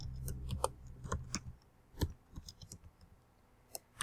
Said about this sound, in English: I'm going to just type in a few students' names.